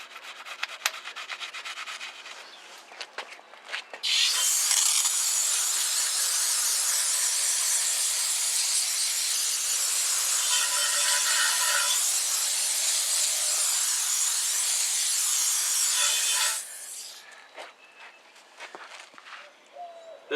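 A wheel on a 1978 Lincoln Mark V Diamond Jubilee Edition is scrubbed with a steady, close, hissing rub that runs unbroken for about twelve seconds, with faint clicks and handling noises before and after.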